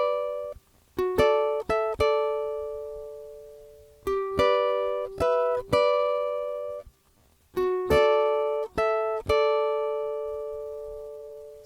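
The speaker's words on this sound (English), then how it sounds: "So far it sounds like this." Solo ukulele fingerpicking the opening of a song: three short phrases of crisp plucked notes, each rising to a bright ringing chord that sustains and decays, played close up with no voices.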